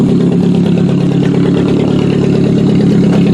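V6 car engine running loud and close as the car drives over a log in a yard, a steady rough rumble with clattering pulses and no break.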